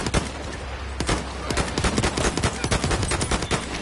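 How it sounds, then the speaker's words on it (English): Battlefield 1 gunfire: a steady run of sharp, loud rifle and machine-gun shots cracking in quick irregular succession over a low rumbling battlefield background, with no voices. "On your team, stop shooting at me."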